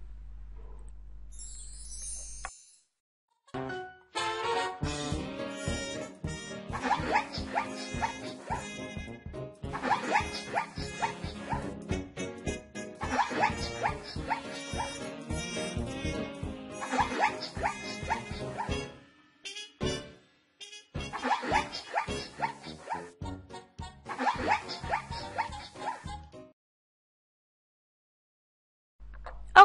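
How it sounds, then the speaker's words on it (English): A zebra call: loud, repeated barking brays and yelps that come in dense bursts over roughly twenty seconds, with short pauses between phrases. "Okay, this was the sound of the zebra."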